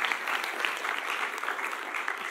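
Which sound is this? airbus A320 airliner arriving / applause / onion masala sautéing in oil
applause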